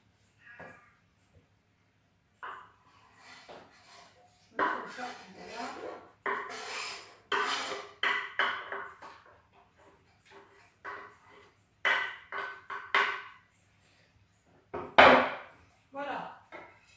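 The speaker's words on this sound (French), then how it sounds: "Et je vais rajouter mes oignons." Onions tipped into a pan for confit fennel with tomato coulis, heard as several separate bursts of rustling, scraping and sizzling with quiet gaps between them; no talk.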